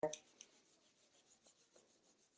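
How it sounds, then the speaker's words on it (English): Two palms rubbed briskly together in a steady back-and-forth rhythm, soft and close, during a guided healing meditation. "We're going to rub our hands together"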